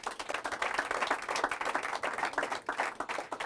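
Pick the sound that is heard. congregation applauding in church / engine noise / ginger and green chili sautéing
congregation applauding in church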